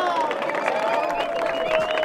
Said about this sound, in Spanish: ¡Aplauso, aplauso, aplauso!